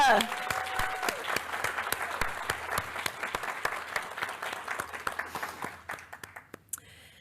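Residents of Hillside applaud at a township address, a steady wash of many hands clapping close by that thins out and fades near the end, with a brief voice at the very start.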